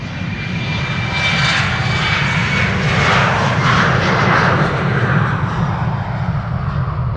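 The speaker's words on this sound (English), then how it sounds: "This is KLM flight 903 to Inverness in Scotland." A KLM passenger jet bound for Inverness takes off at Amsterdam Schiphol Airport, its engines giving a loud, steady roar that swells slightly mid-clip and holds strong, with no voices over it.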